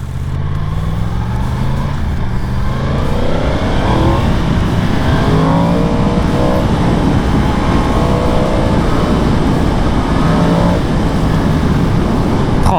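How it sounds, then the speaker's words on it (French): A 2022 Yamaha MT-10 motorcycle engine revs hard and close, rising and falling through several climbing sweeps over a loud, continuous rumble. "Ce moteur là, il est plein de vie, il est souple."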